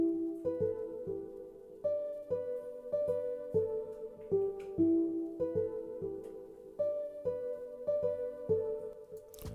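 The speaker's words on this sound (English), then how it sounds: "we have this melody that was used at the chorus part" A dark, warm synth melody from a Nexus plugin with its filter cutoff lowered plays the chorus line of a beat remake, with steady sustained chord-like notes stepping in a repeating pattern, clear and alone.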